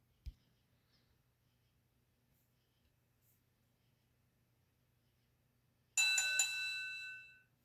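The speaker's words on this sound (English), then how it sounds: "The bell rang and suddenly farted" School bell swapped for a cartoonish fart noise: after a mostly quiet stretch with one small early click, a single loud, buzzy tonal blast sounds for about a second and a half and then fades; no talking.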